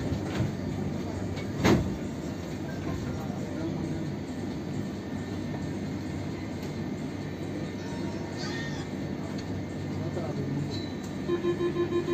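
Train running on a rail trip from Lleida to Tarragona, Spain: a continuous low rolling rumble of the carriage with a brief louder clank, steady throughout, with voices in the background.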